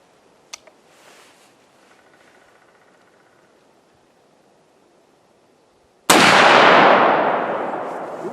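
A Marlin 1895 lever-action rifle in .45-70 fires one loud, booming shot that rings out and decays slowly, after a few seconds of faint handling noise and near silence.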